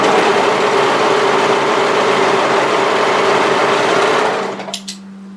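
A sewing machine runs continuously while stitching the seam of a slouchy beanie hat, a fast steady mechanical whir close up that stops near the end, followed by a few faint clicks.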